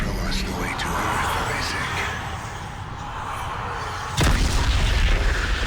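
Heavy gunfire in the sci-fi horror shooter Dead Space 3, aimed at a glowing gold marker, with dense booming shots and rumbling effects that swell louder near the end.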